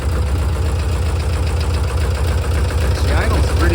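An old VW Double Cab, running off a jerry can fuel line, idles with a steady, rhythmic low throb and a faint knocking edge. The sound is loud and close, with a voice faintly present.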